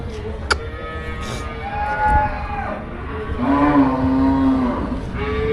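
Bulls at a cattle market moo loudly in several drawn-out calls, one after another, over a steady background of crowd and traffic noise.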